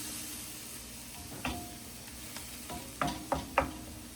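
Ground meat for pastelon browns quietly in a pan under a faint background sizzle, with a few sharp scraping stirs of a utensil against the pan near the end.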